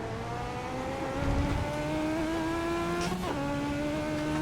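A car engine revs hard under too much throttle while driving in fifth gear, a steady rising drone with a brief tire-like squeal, close and continuous throughout.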